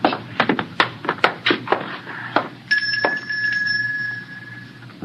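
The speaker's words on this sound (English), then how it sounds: "We're going to ring that doorbell." A doorbell rings in an old-time science fiction radio drama after a run of knocks and thuds. One clear bell tone rings on and fades slowly, close and distinct.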